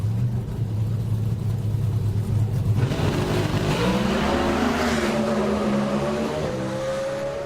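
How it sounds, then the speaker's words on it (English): NHRA drag racing cars at Richmond, Virginia qualifying, loud engines roaring continuously and revving up into a rising launch, with tires spinning on a very hot track; no talk over the engine noise. "you heard the revs stay way up for Coughlin. He spun the tires"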